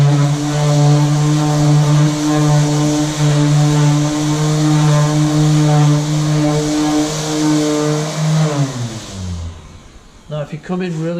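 An electric flat sander works over a liquid metal coating with a smooth, aluminium-like finish, giving a loud, steady whirring drone with a constant pitch that runs for about nine seconds and then winds down and stops.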